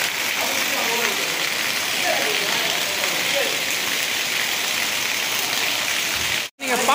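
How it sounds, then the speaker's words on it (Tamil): Heavy rain pours down in a steady, dense hiss that continues without a break, with a short silent gap near the end. "சரியான மழை பெஞ்சின் இருக்கு."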